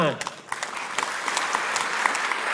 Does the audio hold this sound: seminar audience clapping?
yes